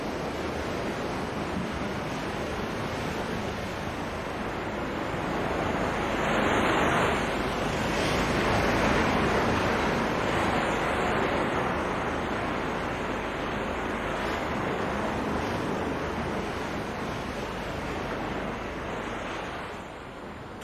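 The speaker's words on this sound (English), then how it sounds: "Driven by the wind over the wide Pacific, the swell builds." Steady roar of Pacific Ocean swell and surf driven by wind, a broad continuous wash that swells slightly midway and never pauses, with wind noise and no voices.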